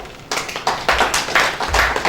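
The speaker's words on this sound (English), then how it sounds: "let's give them a clap." Scattered audience clapping at a meeting of Ugandan professional women in agriculture and environment, a handful of close, sharp hand claps in an uneven rhythm that builds briefly rather than forming a full ovation.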